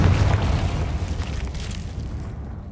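A Confringo blast spell detonates in Hogwarts Legacy, a loud, deep booming explosion with eruptive rumble that slowly fades toward quiet at the end.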